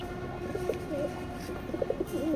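Soft cooing from a male racing pigeon of a foreign bloodline in a loft, a few short murmuring coos rising over steady background noise.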